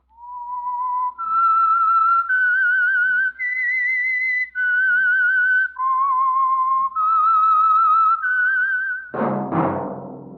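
A clear, loud whistled melody of sustained notes with gentle vibrato, stepping up and down in pitch, ending with a brief burst of other sound.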